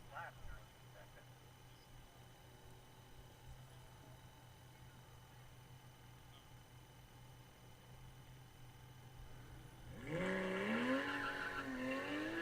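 A race car runs a timed lap at Laguna Seca, heard as a faint distant hum for most of the clip before tires squeal sharply near the end, with a commentator talking throughout.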